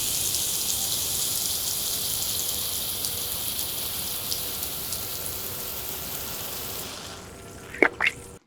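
Garden sprinklers spraying water a few inches away give a steady hissing spray that stops near the end, leaving a couple of brief drips and clicks.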